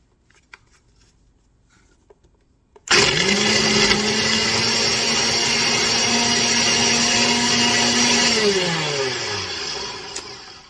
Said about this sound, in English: So with my blender, I usually run it for about 5 to 7 seconds.